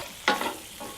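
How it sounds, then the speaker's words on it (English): Venison and mushroom sauce is stirred in a frying pan outdoors in the woods, a brief spoon scrape over a soft bubbling sizzle. "Stir that around."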